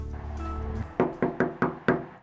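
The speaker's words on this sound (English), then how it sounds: "an unsuspecting knock on the door" After a sustained low tone fades out, five firm knocks strike a door in quick succession, each crisp and close with a short ringing decay and no voices.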